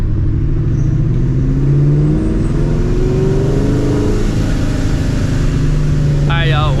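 Supercharged 2004 Mustang GT engine revving hard and climbing in pitch with a rising supercharger whine, loud and close, then settling to a steady roar before a brief squealing sound at the end.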